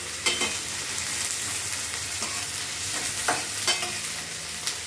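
Plenty of onions frying in a pan for a potato fry, a steady hissing sizzle broken by several scraping strokes of a spatula at irregular intervals, close and without talk.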